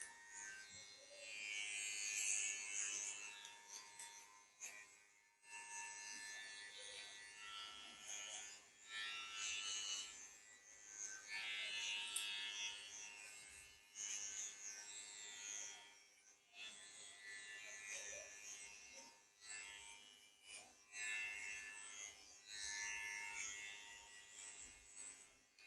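An electric hair clipper buzzes in repeated passes while cutting a child's hair, its whine rising and falling over and over, close and fairly quiet, with brief pauses between strokes.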